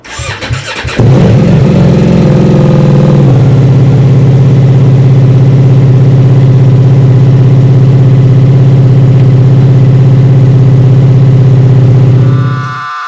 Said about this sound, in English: get the bike running, let the engine heat up